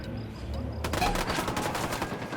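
Sustained video-game gunfire from Ghost Recon Wildlands bursts in loud and dense after a quieter opening, with rapid automatic shots rattling continuously to the end.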